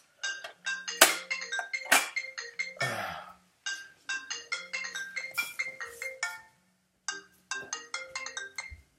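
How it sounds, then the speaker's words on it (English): A cell phone rings with an incoming call, a bright melodic ringtone repeating in short phrases with brief pauses between bursts, loud and close with no talking. "I've got a phone call."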